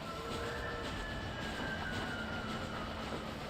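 A train rolls along in the Red Dead Redemption video game, a steady, continuous rumble with a faint whistle-like tone held throughout, with no talk over it.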